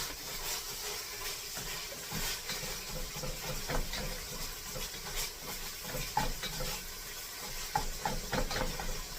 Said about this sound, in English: I'm just going to fry this hamburger up